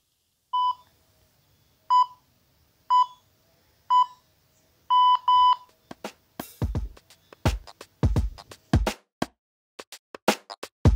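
A series of short interval-timer beeps at steady intervals, about one per second, ending in a longer double beep, followed by thuds and rustling movement during a workout.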